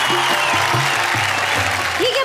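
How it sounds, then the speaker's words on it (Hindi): An audience at a Hindi comedy poetry show applauds loudly in a thick, continuous burst of clapping while a voice talks underneath it. "भाई तालियां क्या तारीफ की है जरा"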